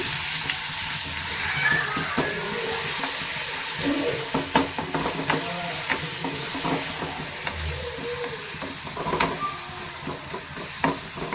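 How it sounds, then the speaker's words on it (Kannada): Green chili paste frying over a low flame in a pan, a steady soft sizzle with repeated stirring scrapes and clinks throughout, close and fairly loud, no talking. "ಇವಾಗ ಪೇಸ್ಟ್ ಮಾಡಿದ್ದು ಮೆಣಸಿನಕಾಯಿ ಹಾಕೊಳ್ಳೋಣ. ಚೆನ್ನಾಗಿರುತ್ತೆ. ಸ್ಲೋ ಫ್ಲೇಮಲ್ಲಿ ಫ್ರೈ ಮಾಡೋಣ."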